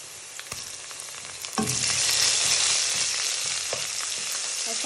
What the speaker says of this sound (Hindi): अब इसके अंदर हम लहसुन अदरक डाल देंगे।